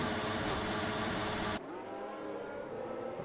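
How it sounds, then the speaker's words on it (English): An F1 2019 race car engine in the video game glitches into a loud, steady high rev that abruptly drops to a lower, duller engine drone halfway through, no voices heard. "that's a great revving glitch"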